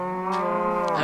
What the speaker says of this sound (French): J'entends des vaches, des poules.